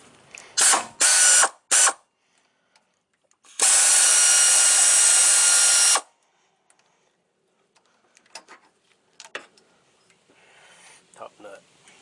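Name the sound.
ratchet wrench loosening a top nut on a car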